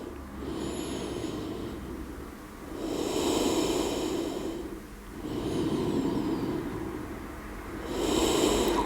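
Slow, deep breaths during a yoga flow rise and fall in long inhale and exhale waves, each lasting a few seconds. The breathing is close and soft, with faint hissing air.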